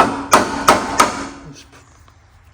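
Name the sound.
hammer pounding on Briggs and Stratton engine head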